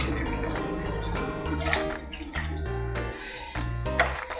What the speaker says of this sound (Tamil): இப்போ நம்ம வேகிறதுக்கு தேவையான அளவு தண்ணி ஆட் பண்ணிக்கலாம்.